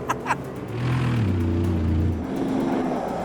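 A heavily modified Mercedes G-Wagen slides sideways across a desert floor, its engine surging into a rising, sustained rev after a couple of short sharp noises, then holding a loud steady roar.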